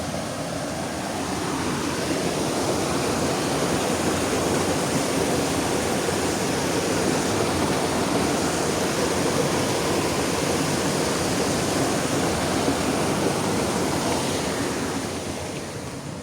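Water rushes steadily through a sluice gate, a dense, continuous roar like surf that holds at a constant level for the whole stretch before easing slightly at the end, with no voices.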